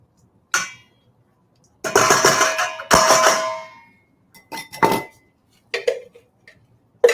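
Chopped peppers, carrots and celery drop into a bowl in several close, sharp clattering bursts, with short pauses between the scrapes and tumbles of vegetable pieces.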